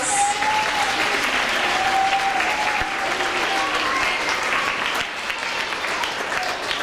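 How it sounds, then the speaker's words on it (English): An audience of boys and girls at a school panel about Wreaths Across America applauds, a dense, steady wash of many hands clapping at even loudness throughout, with a faint tone and scattered voices beneath. "let's all first give Ms. Serio a round of applause."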